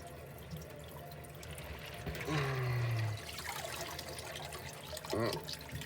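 Ice-cold running water splashing and trickling at low volume over cooked pasta, with a brief stronger gush in the middle and some faint clatter near the end.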